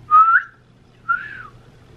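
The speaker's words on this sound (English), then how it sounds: "that's not a squeak, that's a whistle." Two short whistled notes, each gliding in pitch, with a brief pause between them, loud and close in a quiet room with no talking.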